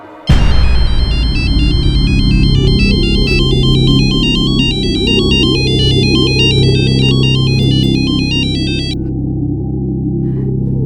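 A loud electronic phone ringtone plays a repeating melodic pattern over a steady low hum, stopping abruptly near the end.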